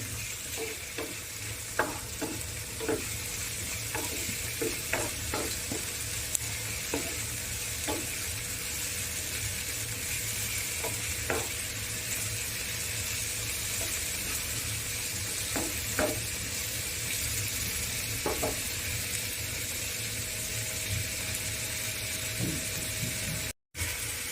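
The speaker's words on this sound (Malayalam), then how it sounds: "ഇനി തക്കാളി ഇട്ട് കൊടുക്കാം. ഒരു ചെറിയ തക്കാളി ഇട്ടിട്ടുള്ളൂ." Chopped tomato frying in a pan for chicken kunafa, with a continuous close sizzle and hiss broken by scattered scraping stirs of the spoon throughout.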